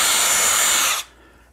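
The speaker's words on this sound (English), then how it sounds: "the easiest way is to drill a pilot hole" A power drill whines loudly and steadily for about a second drilling a pilot hole in wood, then cuts off abruptly into near silence.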